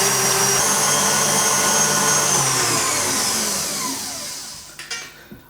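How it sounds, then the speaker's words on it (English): An electric hand mixer whisks egg whites to stiff peaks for a Black Forest gateau, a steady loud motor whir running continuously before winding down and stopping near the end, followed by a few light knocks. "Now you want to beat your or whisk your egg whites to stiff peaks."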